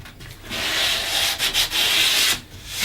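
Fine 240-grit sandpaper rubbing along a wooden edge, a steady close scratchy hiss with brief dips as strokes change, then easing off near the end.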